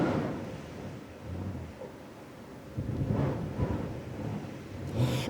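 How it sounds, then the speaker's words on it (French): Storm effect with rumbling thunder and a cold, sharp wind blowing, a broad low roar that swells and surges in several loud bursts, the heaviest rumbles near the middle and end. "Mais c'est une vraie tempête, à culbuter un jeu de quilles !"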